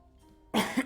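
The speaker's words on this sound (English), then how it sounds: "Sorry guys for the coughing." A single short cough bursts out close to the microphone, followed by a second smaller cough, after a quiet room hum.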